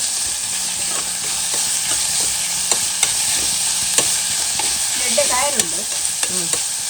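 Onions fry in oil inside a pressure cooker for mutton curry, giving a steady, bright sizzle close by with occasional light stirring clicks and a brief squeaky scrape near the end, and no talking.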